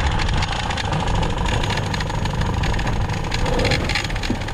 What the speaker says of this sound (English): Funny noises from the engine.